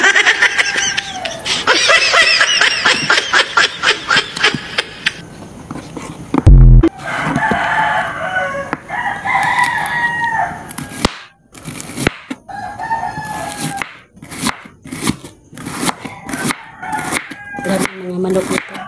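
Roosters crow nearby in a rural setting, several drawn-out cock-a-doodle-doo calls repeating across the stretch, mixed with laughter and chatter from people close by.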